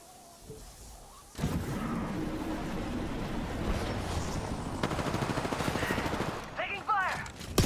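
Gunfire in Apex Legends: after a quiet opening, sustained rapid automatic shots crackle in dense bursts, with brief in-game voice lines near the end.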